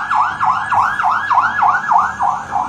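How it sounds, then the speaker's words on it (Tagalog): A fire truck siren during an earthquake drill in Vigan City sweeps up and down in a fast, repeating yelp, loud and wailing, close by and steady throughout. "sa pag-alingaw ng tunog ng sirena ng mga bumbero"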